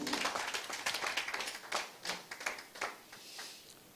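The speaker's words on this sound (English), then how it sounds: "Please, another round of applause for him." An audience at a technology forum claps for a speaker, scattered fairly faint handclaps that thin out and fade toward the end, with no talk.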